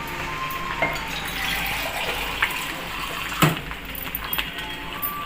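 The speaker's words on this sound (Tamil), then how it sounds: "தண்ணி ஒன்றரை கிளாஸ் ஊற்றிக்கலாம்" Hot water pours in a steady, rushing stream into flour in a container, with a few small knocks and splashes along the way.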